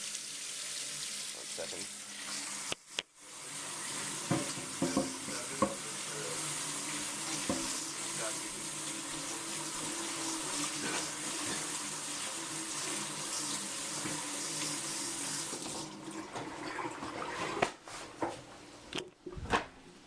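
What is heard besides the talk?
washing a tortoise's water dish under the tap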